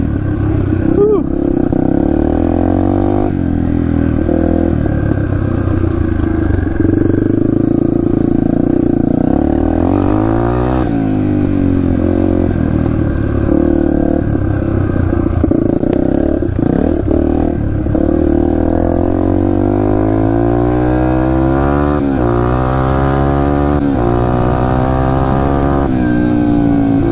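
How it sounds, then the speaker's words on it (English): A Yamaha TTR230 dirt bike engine runs steadily on a wooded trail, a loud close continuous drone that rises and falls with throttle changes throughout, with a rider's voice now and then over it. "Bike is running good."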